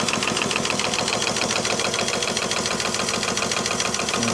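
A homemade factory steam engine with its boiler runs steadily, giving off a fast, even mechanical chuffing and knocking rhythm at close range with no talk over it.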